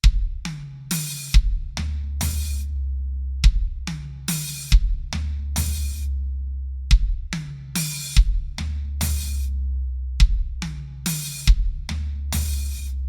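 A drum kit plays repeated triplet fills, with bass drum and hi-hat strokes leading into quick runs across the snare and a medium tom, looping in a steady cycle several times, close and loud with no talking.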